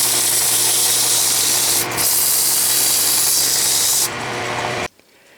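A metal handwheel for a South Bend shaper being sanded with 80 grit abrasive makes a loud, continuous rasping scrub with a brief dip partway, then it tapers and cuts off abruptly near the end.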